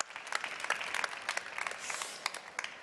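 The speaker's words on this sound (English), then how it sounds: "I think that deserves an applause." Audience applause at a women-for-change panel discussion, a scattered, moderately faint clapping from a crowd lasting a few seconds with no talk over it.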